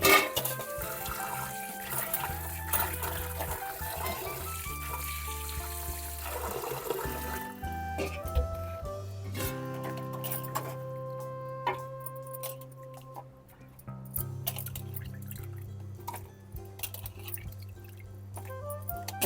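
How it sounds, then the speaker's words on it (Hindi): Small fish are washed in water in a large pot in a home kitchen, with soft splashing, dripping and trickling water and clinks of the vessel, mostly quiet and close. "अब इसको थोड़ा बड़ा बर्तन में रख लेती हूँ धोने के लिए।"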